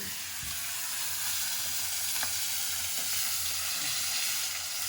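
Small pork pieces fry in a pan with a steady, soft sizzling hiss, broken by faint scraping and stirring as they are flipped; no voices.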